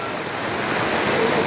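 Floodwater rushes steadily through a flooded dhobi ghat in Jogeshwari, a dense, loud broadband roar like surging water filling the brief moment without a break.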